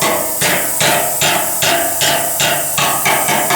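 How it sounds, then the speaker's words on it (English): Steady, evenly spaced hammer taps ring against sheet metal, bending a cowl panel on a 1969 Dodge Coronet, roughly two or three strikes per second, close and loud with no voices. "I am slowly bending it into shape with my hammer, slowly just tapping on it"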